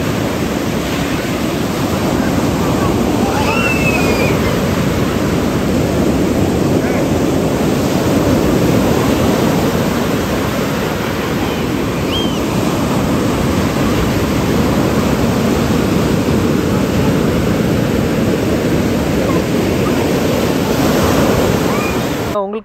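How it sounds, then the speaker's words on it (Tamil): Ocean waves roll and crash on a beach in a steady, loud wash of surf, with wind buffeting the microphone throughout and occasional faint distant voices. "அந்த பீச் சவுண்டு, அதாச்சும் அந்த கடல் அலைகள் சவுண்டு"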